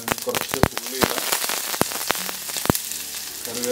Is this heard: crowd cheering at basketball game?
no